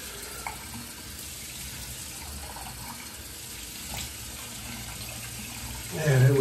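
Running tap water splashes steadily into a sink as a face is rinsed after a wet shave with shaving soap, a continuous close flow with a brief louder splash at the end.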